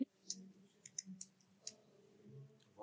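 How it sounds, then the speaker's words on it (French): Sparse clicking of computer keys and a mouse while text is entered in a drawing program, a few separate light taps spread out over a quiet background. "Vous tapez un mot."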